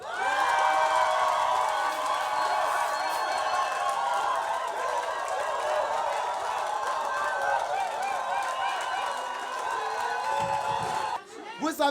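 A church congregation cheers and shouts in acclamation of the Lord, a loud, dense, sustained roar of many voices that carries on without pause before briefly thinning near the end.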